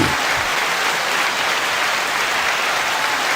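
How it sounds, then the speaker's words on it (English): Steady, dense applause from an audience, continuous clapping at an even level for the whole stretch, with no voices standing out. "9-second applause."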